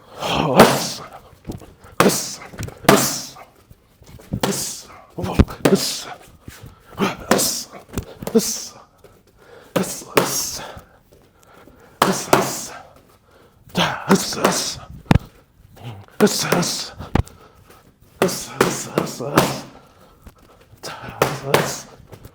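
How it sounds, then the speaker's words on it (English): Taekwondo round kicks striking handheld kick paddles, landing as a series of loud, sharp slaps in bursts of two or three with short pauses between, close by, with occasional talk in the gaps. "that was some Taekwondo kicks with the paddles here"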